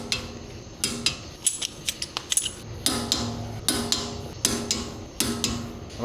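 A wrench ratchets and clicks in sharp, irregular bursts while torquing the brake caliper bolts on an Alfa Romeo Stelvio, close metallic ticks repeating in short runs.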